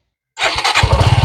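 A Suzuki Gixxer SF motorcycle, 2024 model, cranks and fires after a moment of silence, its engine catching abruptly and settling into a loud, close, pulsing idle.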